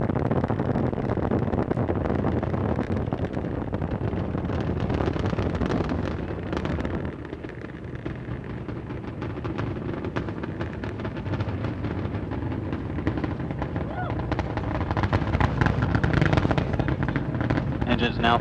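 Space Shuttle Endeavour's engines roaring during the STS-47 launch, a continuous, loud, broadband rumble that holds steady throughout while a commentator's voice runs underneath.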